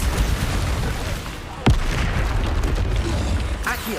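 The Bombarda explosion spell from the video game Hogwarts Legacy, a single sharp blast with a low boom, heard over a loud, continuous rumble of game combat noise.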